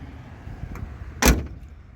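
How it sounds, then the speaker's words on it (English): The door of a Ford extended cab 3/4-ton truck shuts with a single solid thump after some faint handling noises, close and clear in a quiet setting. "That door closes great."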